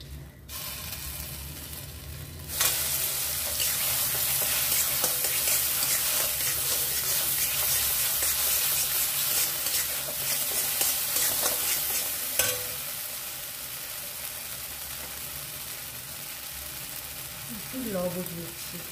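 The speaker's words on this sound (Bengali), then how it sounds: "কড়াইয়ের মধ্যে যে তেলটা আছে সেই তেলের মধ্যে দিয়ে 5-7 মিনিট ভালো করে নাড়াচাড়া করে নেব।" Bean paste is stirred and fried in oil in a wok, a steady bright sizzle broken by spatula scrapes, fading quieter near the end.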